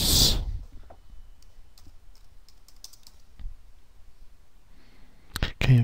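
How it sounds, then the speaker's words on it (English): Computer keyboard typing, a sparse run of soft, quick key clicks at moderate distance between louder bursts at the start and end, with a person talking nearby. "And I can start typing in my words."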